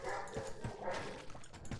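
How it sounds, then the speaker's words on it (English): A pet dog barks a few short times in the background, fairly faint and intermittent, over quiet room noise with no talking. "Doggy's going off."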